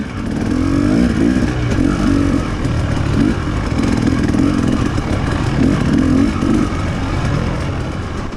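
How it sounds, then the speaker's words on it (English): An enduro dirt bike engine snarls close and loud through a steady run of revs on a race course at the 2018 Gobbler Getter enduro, its note rising and falling as the throttle works, with no voices. "I'm able to get the bike up and get going again."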